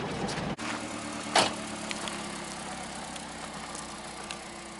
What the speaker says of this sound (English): for such a tiny little engine, this thing really goes if you want it to